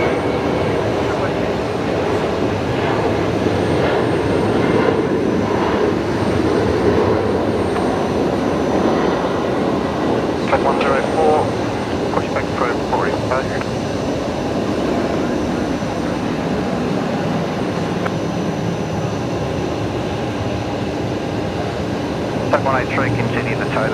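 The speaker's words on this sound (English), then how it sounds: "Qantas Link 1939 heading off here." A QantasLink airliner departs Brisbane Airport, its engines a loud, steady roar filling the whole stretch while people talk over it and radio chatter comes through.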